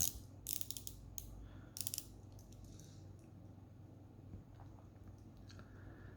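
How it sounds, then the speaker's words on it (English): Unidirectional dive bezel on a Heimdallr Frost V2 watch being turned, giving a few quick, faint ratcheting clicks in short clusters near the start, then quiet handling noise. "It's unidirectional, being a dive bezel."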